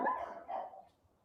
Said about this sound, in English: She got a grandma bark.